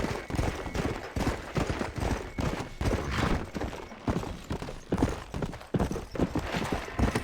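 Horse hooves clip-clop steadily in a video game, a continuous loud rhythmic trot of repeated thuds with no talking.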